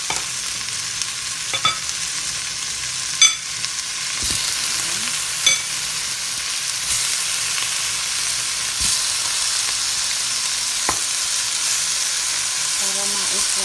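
Chicken fries in a pan with a loud, steady sizzle and hiss, punctuated by occasional clinks of a utensil, no talk.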